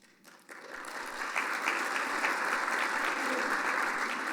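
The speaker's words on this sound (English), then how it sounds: "if you give them a round of applause" A city hall audience at a State of the City event claps for city staff being introduced, the applause swelling in after a quiet start and holding steady and full.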